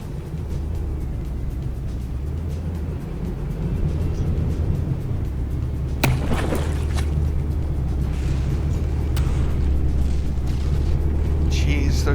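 Naval shells fire and burst during a battleship battle in From The Depths, with deep rumbling booms over a constant low engine-like drone and a sharper blast midway. Someone talks over the action.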